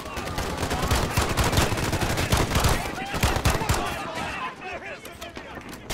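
Dense, rapid gunfire rattles almost without pause in Call of Duty Modern Warfare, with bursts of automatic fire and loud cracks layered over one another and a player's voice mixed in.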